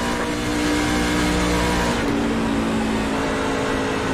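Simulated NASCAR stock car engine from iRacing holding a steady loud drone on a straightaway, with a slight pitch shift partway through and no talk.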